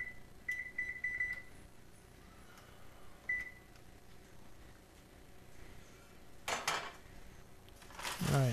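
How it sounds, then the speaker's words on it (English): A kitchen oven's control panel beeps as it is set to 375 degrees, with a few short, faint electronic tones near the start, then scattered soft clatter of pans and a louder knock toward the end. "Next, we're going to get this oven started."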